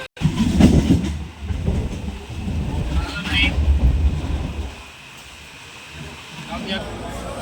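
A crowded Kolkata local train runs on the Howrah–Liluah–Bally line, rumbling steadily with a low rattle and a few metallic squeals, while passengers' voices murmur throughout.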